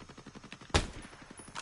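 Gunfire in the tactical shooter Ghost Recon Breakpoint, a steady rapid patter of shots followed by one loud close blast near the middle, with more bursts trailing off after it.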